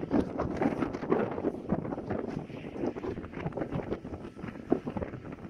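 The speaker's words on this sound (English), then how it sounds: "We've got a side on wind," Steady wind buffets a sailboat riding at anchor in a side-on breeze gusting near 30 knots, a continuous rough rushing roar close to the microphone with small knocks, no voices.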